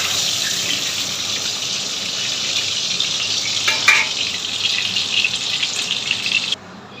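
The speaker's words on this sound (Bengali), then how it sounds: "এই যে এখানে পেঁয়াজটা দিয়ে পেঁয়াজটাও ভালো করে ভেজে নিচ্ছে" Onions and potatoes fry in hot oil in a pan, a loud, continuous close sizzle with brief bursts of crackle and stirring midway, cutting off abruptly near the end.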